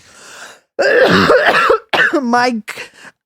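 Throat clearing and a cough right into a close microphone, a harsh burst followed by a shorter rasp, with talking just around it in a podcast setting.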